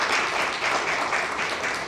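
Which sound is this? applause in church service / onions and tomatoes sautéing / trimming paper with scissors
applause in church service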